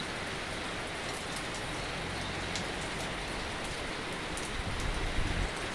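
Steady rain falls on a September day over a garden of plants, a continuous broadband hiss of drops with a few brief patters, constant and fairly close, with a slight swell near the end and no voices.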